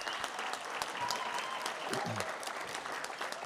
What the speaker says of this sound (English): let's first give a big round of applause to that young man, Giancarlo Buscaglia, who's been performing for us this evening